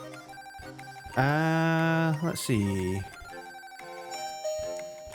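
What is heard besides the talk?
doorbell ringing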